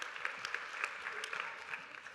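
Applause from an audience at a high school spring choir concert, a soft, steady patter of many hands, fairly distant and faint, with a few brighter individual claps standing out.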